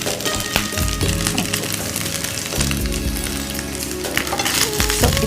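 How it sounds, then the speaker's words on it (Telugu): Rice fries and sizzles in hot oil while being stirred, a steady crackling hiss with soft scraping strokes, close and continuous, in a kitchen cooking an achari paneer pulao. "సో ఇప్పుడు ఈ ఆయిల్లో ఈ రైస్ని కాస్త అటు ఇటు ఇలాని పెట్టుకోండి."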